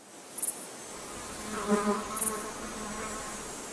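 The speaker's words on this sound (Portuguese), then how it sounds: "Essas moscas vermelhas gigantes adoram o calor e se reproduzem sob o sol de verão." Giant red flies in the hot Aragón desert in Spain, buzzing steadily nearby with a few louder wingbeat swells as insects pass close, under a constant insect hum.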